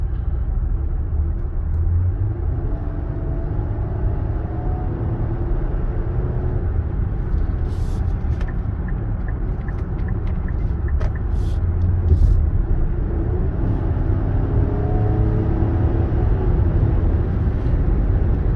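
Cabin sound of a 2023 Nissan Pathfinder Platinum SUV driving, a steady low road and engine rumble with smooth, barely noticeable transmission shifts, continuous and fairly loud, with a few faint clicks and no talking.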